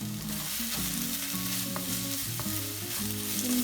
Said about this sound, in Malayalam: ഇഞ്ചി വെളുത്തുള്ളി നന്നായി ഇതിൽ കിടന്ന്